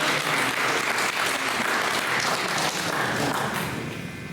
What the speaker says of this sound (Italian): Luis Giacchetto, applauso.